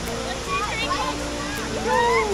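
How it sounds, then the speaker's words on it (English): A waterfall pours into an outback swimming hole on the Gibb River Road in Australia, giving a steady broadband rush with splashing, while children's and adults' voices chatter and call over it nearby. "Pretty cool waterfall, isn't it, this one?"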